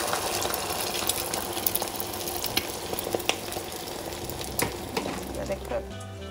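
Egg white frying in hot oil, a continuous crackling sizzle with scattered pops, moderately close, while a person talks over it.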